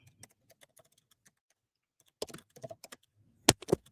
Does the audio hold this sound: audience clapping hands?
no